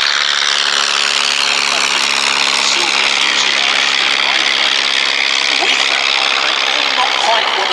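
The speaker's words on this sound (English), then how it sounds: "that yellow aircraft taking off now" A yellow vintage biplane trainer takes off, its engine a steady, loud broadband drone that holds without a break across the whole stretch, with no voices over it.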